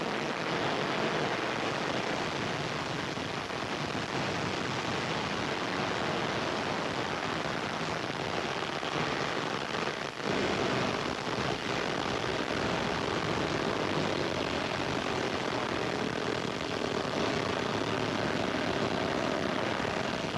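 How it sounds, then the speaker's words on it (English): Ariane 42L launcher lifting off on four main engines and two boosters, a continuous loud, dense roar that holds steady throughout with no speech over it. "you see all the engines burning away."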